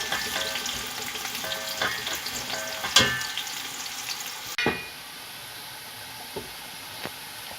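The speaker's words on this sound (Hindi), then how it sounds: "प्याज को हमने जो है बहुत ज़्यादा ब्राउन नहीं करना, लाइट ब्राउन रखेंगे।" Onions frying in hot oil until light brown, a dense crackling sizzle with stirring scrapes and a few utensil knocks, dropping to a quieter hiss partway through.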